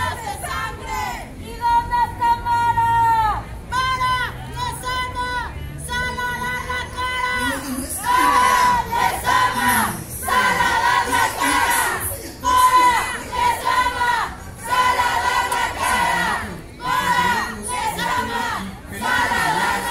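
Feminist protesters dressed in black with hooded faces chant together in front of a municipal palace, a loud crowd of voices shouting in repeated rhythmic bursts that continue steadily throughout.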